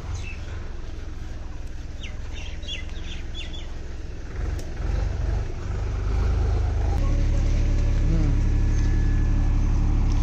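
A vehicle's wheel sinks and sticks in soft ground, its engine rumbling low and close, then swelling louder and steadier midway as it strains, while birds chirp in the background.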